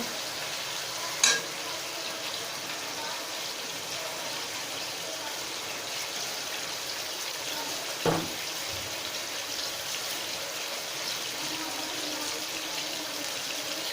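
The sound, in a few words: frying chicken karahi with ginger garlic paste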